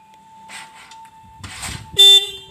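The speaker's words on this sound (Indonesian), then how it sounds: "Pengecekan klakson." A car horn is sounded during a horn check, giving one short, loud, bright blast near the end after a steady faint tone and some handling noises.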